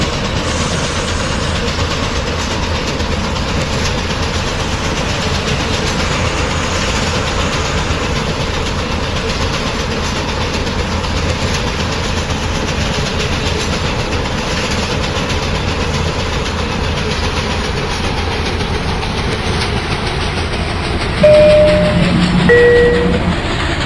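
An LIRR commuter train in the Hmmsim2 train simulator game, running steadily with continuous motor drone and rail rumble, a brief louder surge near the end.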